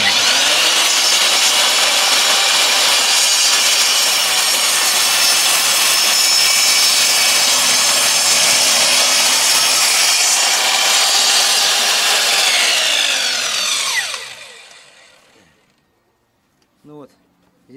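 ZUBR Master miter saw running and cutting through wood, a loud sustained high whine with grinding for about fourteen seconds, then the motor winding down into silence and a few light clicks.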